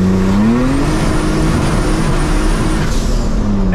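Engine-swapped drift car under hard acceleration, a loud, continuous engine roar rising in pitch through the gears with a brief dip at a shift, close and unbroken with no talk over it.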